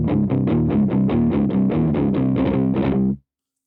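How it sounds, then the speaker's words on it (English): Crunchy overdriven electric guitar through a Fender Hot Rod amp with the distortion knob still low, strummed chords ringing steadily for about three seconds before cutting off abruptly. "we get a decent amount of crunch straight off the bat"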